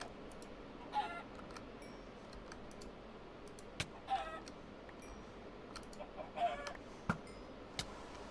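Chickens cluck in the Minecraft video game, with short, faint bursts scattered over a low background hum and sharp keyboard clicks throughout.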